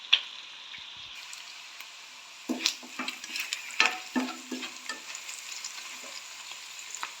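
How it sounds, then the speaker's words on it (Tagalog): Onions, ginger and garlic stir-frying in a pan, a steady close sizzle broken by irregular scraping and clattering strokes of a utensil against the pan. "Nag-light brown na yung ating mga sibuyas, luya, at saka bawang."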